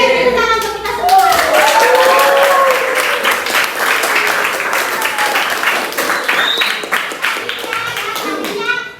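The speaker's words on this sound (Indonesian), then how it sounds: "Tepuk tangan untuk kita semua." A group of students claps together in a classroom, dense hand clapping that holds steady for several seconds and slowly thins out, with children's voices and cheering mixed in over it.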